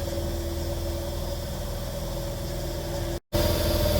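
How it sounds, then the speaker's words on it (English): Steady, loud mechanical drone of an air compressor pumping up air in a garage during brake work on a car, running continuously before cutting out abruptly for a moment and resuming. "right now I'm waiting on the air compressor to finish pumping up"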